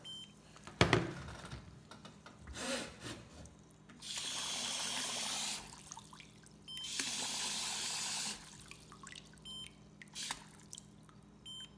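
Water runs from a tap into a sugar mix for syrup in two steady bursts of several seconds each, with a sharp clink and scattered clatter around them.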